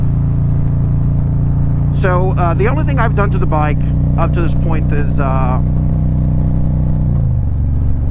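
A 2020 Harley CVO Street Glide with 4.5-inch Chromeworks exhaust and Harley headers idles in a loud, steady, deep rumble close by, running beneath someone talking, then the engine note drops toward the end.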